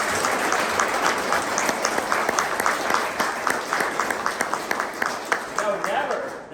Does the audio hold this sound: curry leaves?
no